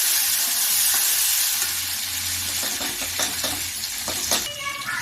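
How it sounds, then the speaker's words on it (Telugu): Chopped coriander tipped into a hot tempering of oil and spices for spinach dal, giving a loud steady sizzle with stirring and scraping sounds in a pan, close by. "తర్వాత వీటిలోకి కట్ చేసుకున్నటువంటి కొత్తిమీర వేసుకోవాలి"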